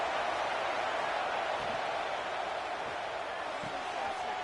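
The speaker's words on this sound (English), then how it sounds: "This crowd bringing the energy and noise early" Steady stadium crowd roar from a college football video game, Miami against Nebraska, a dense wash of cheering that holds at an even level throughout with no distinct voices standing out.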